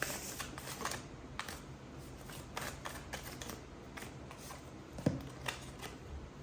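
Tarot cards being shuffled by hand: soft, continuous riffling and brushing in repeated bursts, with a small tap near the end, quiet and close, no voices.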